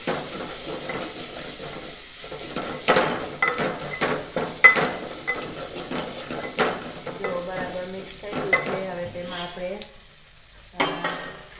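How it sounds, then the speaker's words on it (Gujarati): Red chilli powder and cumin powder fry in hot oil in a pan, giving a steady close sizzle with scattered stirring scrapes and clinks, and a faint voice now and then. "લાલ મરચું પાવડર અને લાલ જીરું પાવડર નાખીશું અને તેને પણ આપણે ફ્રાય કરી"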